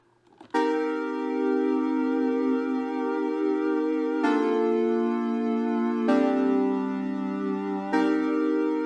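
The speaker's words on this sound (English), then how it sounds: "I used the bronze soft preset of the chords default bank Hive has" Soft, warm synth chords from the Hive bronze soft preset, with four sustained chords entering one after another and ringing out smoothly, alone and without effects.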